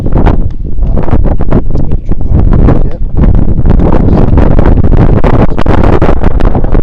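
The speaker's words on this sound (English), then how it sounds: "It's sad, a bit windy." Loud, steady wind buffeting the microphone, a continuous rough rumble with gusty bursts and no clear pauses.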